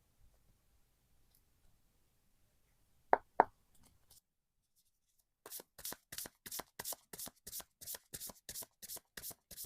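Tarot cards being shuffled: after a quiet stretch and two sharp taps, a quick run of about a dozen evenly spaced riffling flicks follows, close and crisp with no talking.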